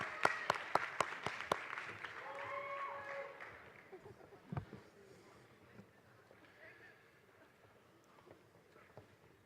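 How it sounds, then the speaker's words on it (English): An audience at a school graduation ceremony applauds: a few sharp, separate claps open into a swell of crowd clapping that thins and fades, with faint talking afterward. "Let's give him another round of applause."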